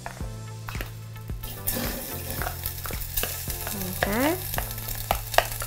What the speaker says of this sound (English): I'm going to just put my food onto my pot.